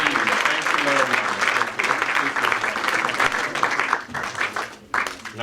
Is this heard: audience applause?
yes